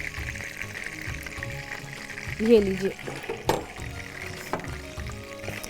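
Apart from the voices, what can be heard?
tadka sizzling in frying oil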